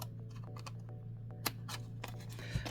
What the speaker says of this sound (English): I'm going to cut these squares out completely.